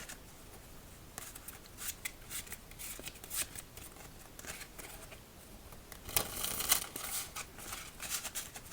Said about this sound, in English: as we start shuffling up our new deck